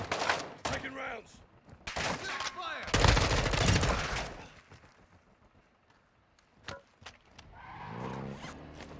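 Video-game gunfire rings out in bursts of sharp, loud shots and rapid volleys, separated by quieter gaps with scattered single cracks and some shuffling movement, with brief voices now and then.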